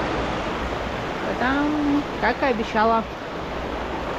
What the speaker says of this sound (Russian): Классная речка. Вообще вода прозрачная. Даже не верится. Достаточно бурная.